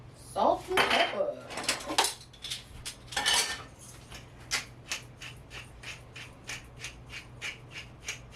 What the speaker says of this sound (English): Salt and pepper mixed with a spatula.